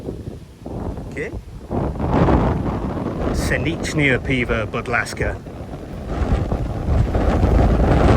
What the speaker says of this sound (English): It's quite windy, but yeah, it's nice. A breeze from the canal.